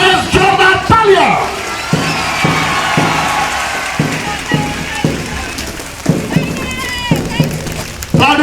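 A crowd claps loudly in a dense, rain-like patter as a police platoon marches past in an Independence Day parade, with an announcer's voice and tonal bursts cutting through.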